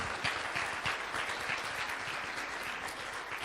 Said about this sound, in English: applause for the last speaker today